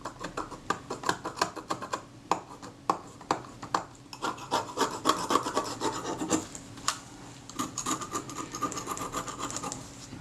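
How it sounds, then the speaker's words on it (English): A scalpel blade scrapes paint off the door of a Retina Reflex S camera in close, repeated rasping strokes with steady rhythm and no voice. "So as I scrape back this way, I've got to have the scalpel under control"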